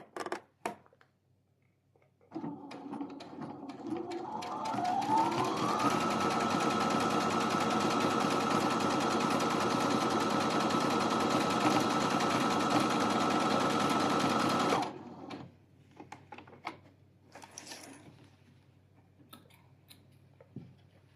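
An embroidery machine converted to straight stitching runs steadily for about twelve seconds with a dense, rapid whirring hum, starting and stopping abruptly amid quieter handling noises, close up and alone.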